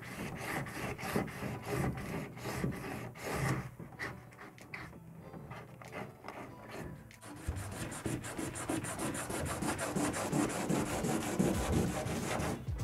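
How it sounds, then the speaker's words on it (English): A surface is scuffed by hand for bonding a bulkhead into an International 2.4mR sailboat, making a continuous close rasping rub in back-and-forth strokes that eases briefly midway, then grows steadier and louder. "I just want to make sure I got a good half inch or three quarters of an inch of scuffed up surface on either side"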